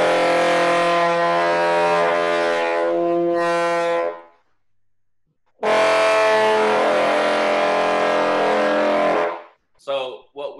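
French horn sounded through a contrabassoon reed with no valves pressed, producing dense, buzzing multiphonic chords in two sustained blasts of about four seconds each, loud and close, separated by a pause, with a brief sputter at the end.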